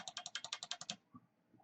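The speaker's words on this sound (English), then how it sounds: "this is what you get with the Model M. It has a different sound and a different feel." An IBM Model M buckling spring keyboard gives about ten sharp, evenly spaced clicky keystrokes in quick succession, close and crisp, followed by near silence with faint faraway knocks.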